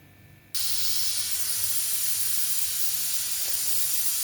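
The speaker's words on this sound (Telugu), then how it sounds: "Two whistles వచ్చేసినాయండి." A pressure cooker of tomato dal lets off a loud, steady hissing whistle of steam that starts abruptly after a moment of quiet and holds at full strength to the end.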